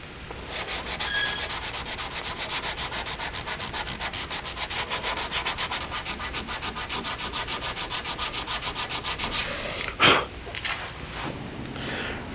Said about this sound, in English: I switch to a finer grit disc or sandpaper, and I do the rest of my sanding by hand.